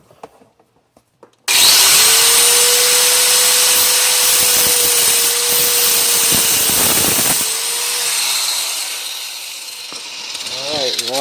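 Power tool cutting plumbing pipe: a loud, steady whining buzz that starts abruptly after a quiet moment, grinds on with some scraping bursts, then eases down toward the end.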